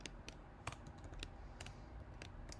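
Rapid keystrokes on a computer keyboard while Java code is typed, irregular clicks and clacks at close range with a few louder taps, steady and quiet with no voices.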